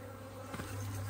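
Worker bees buzz at a backyard hive during an inspection, a steady low insect drone running throughout with a couple of brief louder passes close by, no talking.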